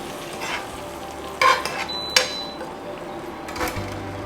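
A pork chop sizzles in a pan as it is basted with butter and aromats, a steady soft frying hiss broken by a few clinks and scrapes of a spoon against the pan.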